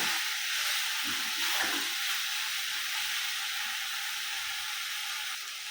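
Okra roasts in a hot pan, a steady, bright frying hiss and sizzle that stays constant and close throughout with faint soft stirring movements beneath.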